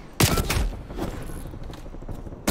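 M60 machine gun fire in a shooter game: a quick, loud cluster of shots that trails off into softer rumbling, with another shot cutting in at the end.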